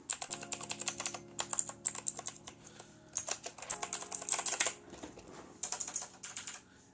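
Rapid typing on a Velocifire VM90 RGB mechanical keyboard, dense bursts of key clacks close up with short pauses between runs, fairly quiet switches, no talking.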